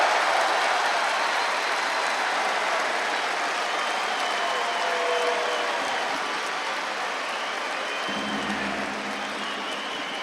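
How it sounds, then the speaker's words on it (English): Large indoor crowd at a judo Grand Slam in Paris roars in a sustained, dense cheer and applause, staying loud throughout and easing slightly toward the end, with no clear speech. "Big cheer from mat number 3"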